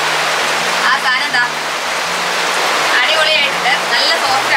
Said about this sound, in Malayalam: നല്ല പെരുത്ത മഴയാണ് കേട്ടോ